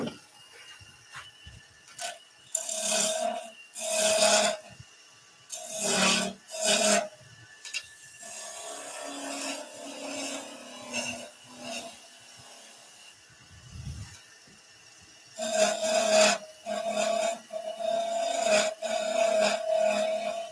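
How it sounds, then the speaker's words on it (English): A spindle gouge cuts a bead into a piece of wood spinning on a lathe while turning potting shed tools, giving repeated rasping, rubbing bursts with quieter scraping stretches between them and no talking. "now we're going to sort the bead out. So I'm going to go with a spindle gouge."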